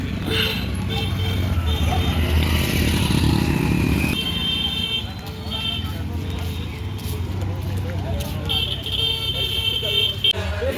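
A motorcycle engine rumbles close by amid busy outdoor noise at the Baba Balak Nath temple, with people talking and traffic sounds in the background.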